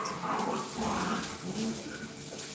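A pet dog whimpers and whines continuously indoors in a home kitchen, a wavering nasal cry with faint growly undertones, close and fairly steady throughout.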